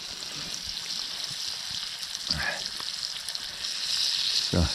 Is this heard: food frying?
yes